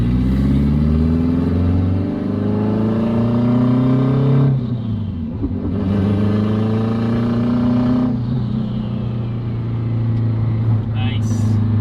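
An all-wheel-drive turbocharged Honda RSX with a K20 engine drives, its engine droning loud and close with rising revs and shifts between gears, while people talk over it.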